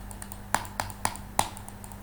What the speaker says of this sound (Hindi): हाँ मेरे माउस की आवाज़ सुनना तुम।